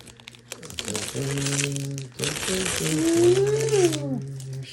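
Protective film peeled off the body of a new Arrma Vortex RC car: a long crinkling, tearing rustle in two sustained pulls, heard under someone talking close by.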